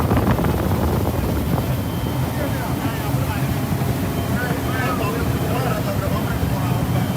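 A motorboat engine drones steadily on open water between Nembe and Odioama in Nigeria, with wind buffeting the microphone and a voice faintly underneath.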